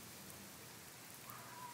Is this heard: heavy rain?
yes